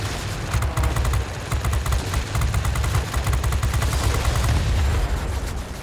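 Aircraft machine guns fire in sustained rapid bursts during a World of Warplanes dogfight, a dense continuous rattle over a low engine drone, loud and close with no talking.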